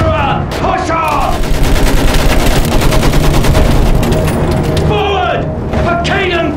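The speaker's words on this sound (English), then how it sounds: "Use that machine gun!" Sustained machine gun fire in the Battlefield 1 trench-warfare game rattles in rapid continuous bursts close up, with shouted voices over the din at the start and end.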